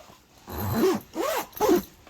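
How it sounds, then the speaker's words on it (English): A big heavy-duty zipper on a canvas cabin tent is pulled in three quick rasping strokes, each a loud close zip separated by short pauses. "Zippers, high quality, big heavy duty zippers."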